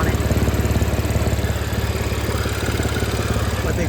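A 2014 Audi S5 with APR stage two tune and an exhaust leak idles, a loud, steady low rumble with a fast, even pulsing throb and broadband hiss, close to the car.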